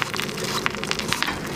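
Cheddar and mozzarella topping bubbling under a broiler, giving a continuous fine crackle and hiss with scattered sharper pops, close and fairly loud.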